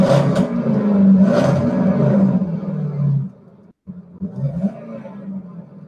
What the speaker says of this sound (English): As you can hear the engine revving for the Peacemobile.